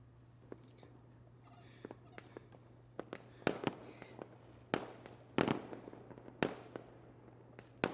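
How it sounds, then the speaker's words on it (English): Fireworks set off by protesters crack and pop at a distance, sharp scattered bangs coming faster toward the end over a steady low hum. "The protesters are setting off fireworks."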